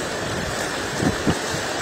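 Heavy rain falls steadily during a mud flood in West Dolo, Central Sulawesi, a dense constant wash close to the phone with a couple of dull bumps.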